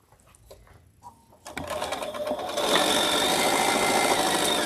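A sewing machine stitching small Dresden quilt blades starts after a few faint clicks, then runs steadily, a fast, even mechanical whir growing louder and holding close and continuous to the end.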